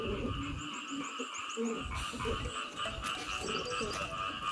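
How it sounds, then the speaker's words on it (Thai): A steady outdoor chorus of many frogs croaking near a market, dense and continuous. Bright repeating calls overlap throughout, with a low rumble of distant background noise beneath. "เสียงกบเสียงเขียดร้องนะคะ"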